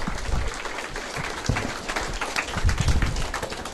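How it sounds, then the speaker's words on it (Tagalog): An audience applauds at a marketing plan presentation, with a dense, fairly loud wash of clapping that holds steady and swells slightly toward the end, no voices above it. "Salamat sa napakalakas na palakpak."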